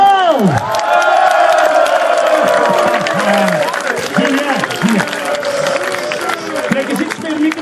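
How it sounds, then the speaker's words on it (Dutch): A large outdoor crowd on the Grote Markt in Beveren cheers a Waasland-Beveren football player, loud and close, with whoops, shouting voices and clapping blending into a continuous roar. "geef hem een duimpje applaus"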